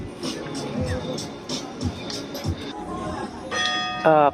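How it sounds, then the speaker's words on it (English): Church bells ring out in repeated strikes amid a murmuring festival crowd in Aci Trezza, Sicily, with a brighter cluster of chimes near the end. "Perfect timing. Church bells, my favorite."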